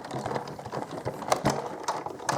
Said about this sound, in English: I'm just going to emboss those with the embossing folder as well